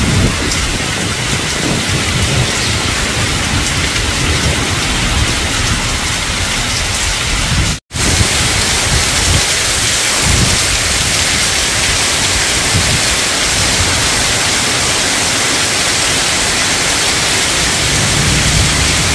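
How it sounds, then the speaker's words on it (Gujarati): Heavy rain pours steadily in a village during a thunderstorm, a loud, dense roar that runs almost unbroken, with only a momentary drop partway through. "ફૂલ વરસાદ ચાલુ થઈ ગયો અટાણે."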